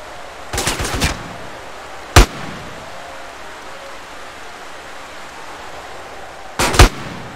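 Gunfire in the video game GTA San Andreas: a quick rattling burst of several shots, then a single loud crack, then after a long quiet stretch another short double burst, all close and sharp over a low steady background hiss.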